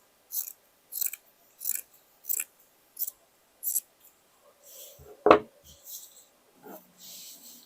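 Scissors cutting fabric along the sleeve curve of a loose dress, a regular series of about seven crisp snips, then a louder clack and scattered softer rustles.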